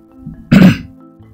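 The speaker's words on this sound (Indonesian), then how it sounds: "sedang batuk" One short, throaty cough from close by, standing out against a quiet background.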